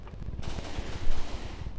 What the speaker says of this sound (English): you can see the cannon is having a go at the Marauder here, so it should be putting in a few rounds on the Marauder